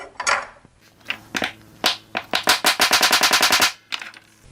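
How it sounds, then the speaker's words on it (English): A pyramid-topped square wood plug is tapped down into a hole: scattered sharp knocks speed up into a rapid, evenly spaced burst of about a dozen crisp taps, then stop, followed by a couple of final hits. "I'm just positioning it around that hole and then tapping it down."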